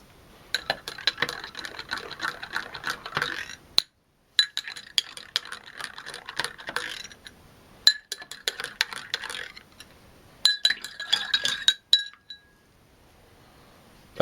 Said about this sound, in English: they've all been sugared and stirred now